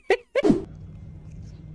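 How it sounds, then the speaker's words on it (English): A dog gives two short, sharp barks up close, followed by a low, steady background hum. "Instantly starts barking as he gets to the other side."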